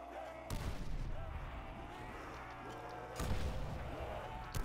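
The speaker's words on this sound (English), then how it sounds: "Have you got grenades? Yeah, I'm throwing one." In a zombies shooter game, two heavy booming blasts hit hard, one near the start and a second about three seconds later. Each leaves a low rumbling tail over continuous game noise.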